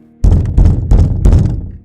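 Around midnight, someone knocks on a door: four heavy, hollow thuds land in an uneven rhythm, loud and close, with no voices.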